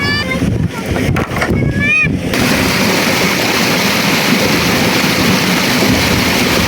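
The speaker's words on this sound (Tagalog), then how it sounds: "Lakas ng tubig." Strong rushing water roars loudly and continuously, a dense steady wash that runs through the whole stretch, with a voice heard briefly near the start.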